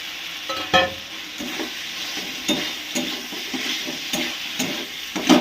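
Fried potatoes stirred into a sizzling spice masala in a pan, with a steady frying hiss broken by repeated scraping stirs and a few knocks of the utensil against the pan, close and with no voices.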